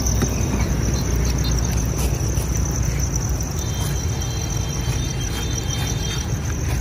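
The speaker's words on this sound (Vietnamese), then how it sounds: "Con dế nuôi rất là to." Farmed Thai field crickets chirp in a dense, continuous high trill from many large insects at once, loud and steady with constant rumbling noise underneath.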